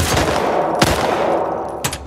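Gunshots in The Last of Us Part 2 ring out as two sharp, loud reports about a second apart over a rumbling in-game background, with no talk.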